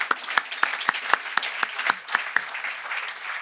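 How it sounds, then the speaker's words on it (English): Sparse applause from a conference audience for corporate partners at an economic forum's opening remarks, a dozen or so distinct claps spaced out and fairly faint, thinning out toward the end. "please join me in a round of applause for our corporate partners"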